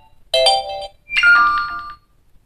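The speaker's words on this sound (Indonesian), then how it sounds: "maka akan tampil berbagai pilihan nada notifikasi" Notification tone played on an Oppo Reno 12 5G phone, two short bright chiming tones in sequence, clean and close with silence around them.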